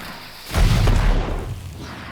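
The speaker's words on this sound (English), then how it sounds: "We'll throw a bomb at these guys." A thrown bomb bursts among enemies in the video game Wartales, a loud deep boom that swells suddenly and then rumbles away over about a second, with no talk over it.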